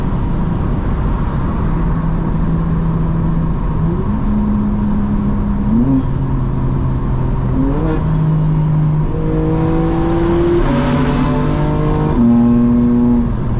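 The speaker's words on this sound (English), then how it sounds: "I know I'm just exaggerating with the gear shifts, but it's so clean, you know? It sounds so good." A modified 2024 BMW M4 Competition engine drones steadily, then revs up through several gears, pitch climbing and dropping with each shift, loud and close.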